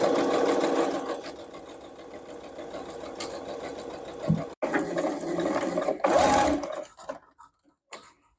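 A sewing machine stitches curtain fabric with a close, rapid mechanical whir that runs steadily, stops briefly, then starts again in shorter bursts before falling quiet.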